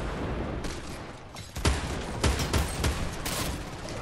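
Bursts of gunfire during a video game team rumble match, several sharp rapid volleys crackling over a steady game background, fairly close and loud with no talking.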